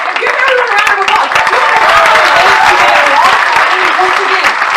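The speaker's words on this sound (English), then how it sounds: "Give everyone a round of applause." Loud, close crowd applause on a low-carb cruise event, a dense wash of clapping lasting a few seconds, with some voices and cheers mixed in among the audience.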